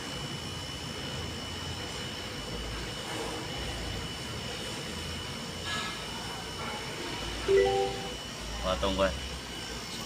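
A Chery Tiggo 7 Pro hybrid with a 48V fault, parked unused for nearly a year, running after being started; a steady engine hum and whine continues throughout, with brief clunks and a short spoken question near the end.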